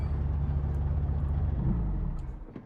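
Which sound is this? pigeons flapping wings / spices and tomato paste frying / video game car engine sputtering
video game car engine sputtering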